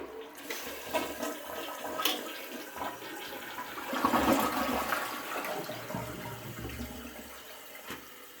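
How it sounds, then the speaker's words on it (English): A toilet runs a full flush, water rushing and swirling into the bowl and building to a peak before easing into a steady refill hiss, close and alone. "let's do a full flush."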